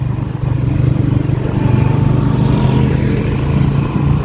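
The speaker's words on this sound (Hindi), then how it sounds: "भाई मोटरसाइकिल चला रही है" Steady engine drone of a motorcycle riding along a street, heard from on board, a continuous low rumble with wind noise and slight fluctuations, no speech over it.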